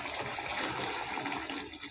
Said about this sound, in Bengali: আমি ঝোলে পানিটা দিয়ে দিব